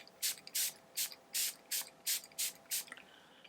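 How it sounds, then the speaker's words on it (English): Hyaluronic serum mist bottle sprayed in eight quick, evenly spaced pumps, each a short soft hiss of fine spray, close to the microphone in a quiet room. "this luminous hyaluronic serum spray. So we're going to go ahead, it's a little mist here"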